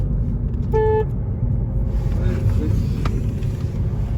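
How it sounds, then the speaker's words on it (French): An Audi car horn gives one short honk inside a moving car, over a steady engine and road rumble while people talk. "Il y a un très bon klaxon."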